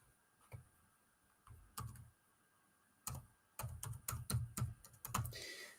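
An email address is typed on a computer keyboard, with a few scattered keystrokes and then a fast burst of crisp clicking. It sounds close and quiet, with no talking.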